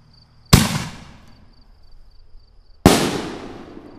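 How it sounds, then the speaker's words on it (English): A single Hog Wild Venom Artillery firework shell fires with a sharp thump, then after a pause bursts with a loud crack that decays into a fading rumble, heard outdoors at a moderate distance. "Okay, here's Venom Artillery, Hog Wild brand. Here's a single artillery shell."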